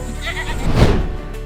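Goats carried on the shoulders of thieves during a police-led procession in Kawardha bleat loudly and close, with a burst of crowd and street noise in the middle.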